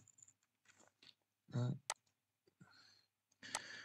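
A computer mouse clicks a few times, sharp and close, while a person talks over it during a PrestaShop back-office session.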